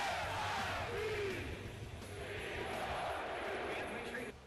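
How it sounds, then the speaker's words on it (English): A large arena crowd of basketball fans at Mizzou Arena boos a former recruit playing for Kentucky, a steady, dense roar of voices that holds throughout. "A rocking atmosphere at Mizzou Arena today. Fans booing former target Kevin Knox."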